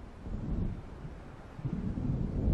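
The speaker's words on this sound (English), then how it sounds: "It seems there's a storm coming." Gusting storm wind with low rumbling swells in the video game Alan Wake, a steady roar building toward the end with no voices.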